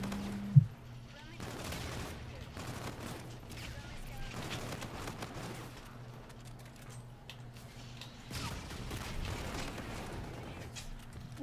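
Gunfire in a shooter video game, an opening loud shot followed by repeated rapid bursts of firing over a steady background hum, with a voice talking over parts of it.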